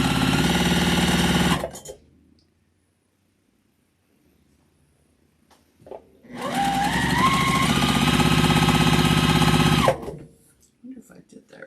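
A sewing machine stitching in two close, loud bursts, the first ending about two seconds in and the second lasting around four seconds after a quiet pause, its motor whirring steadily with a rising pitch.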